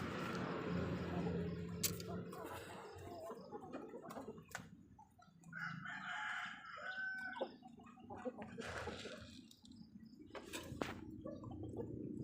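Backyard chickens clucking close by, with a rooster crowing and scattered bird calls at feeding time, fairly quiet with intermittent knocks and rustles.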